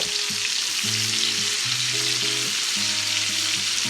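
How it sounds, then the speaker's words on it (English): Onions sauteing in bacon and sausage grease for fried cabbage, giving a steady, close, loud sizzle with crackling throughout and no talking. "We'll get that down in there and get some of that grease on it and everything. It'll help saute these onions up real good."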